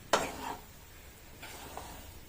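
Red poha upma with grated coconut and curry leaves is stirred in a pan, making two brief soft scraping sweeps separated by a pause over a faint background hiss.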